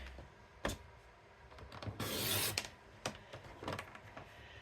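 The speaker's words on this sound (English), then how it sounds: "I'm gonna trim 1/8 of an inch on each side" A craft piece has an eighth of an inch trimmed from each side, giving quiet scraping and rubbing strokes with one longer, louder cutting pass in the middle and soft taps between.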